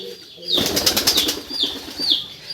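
Pigeons at a pigeon farm flap their wings in a sudden close burst of rapid beats, followed by a few softer flutters and faint coos.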